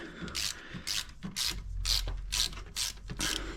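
A hand ratchet clicks in quick, even bursts of strokes while loosening a small nut during restoration work on a Mk1 Volkswagen Rabbit pickup, close and clear with no talking.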